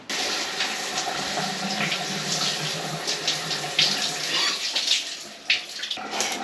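Water runs steadily from a campground shower during winter truck camping, a continuous splashing hiss with irregular spatters and a few sharper splashes toward the end.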